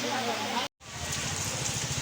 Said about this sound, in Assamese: বৰষুণ পৰি গেলা উপায় নাই আৰু